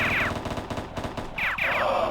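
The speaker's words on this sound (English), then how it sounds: "So L1 equips your machine gun." Rapid automatic bursts of machine gun fire from a weapon in the PS1 game Grand Theft Auto, two clipped rattling volleys a second apart, loud and close over steady game background noise.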